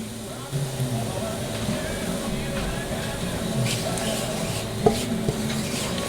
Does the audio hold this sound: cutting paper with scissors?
no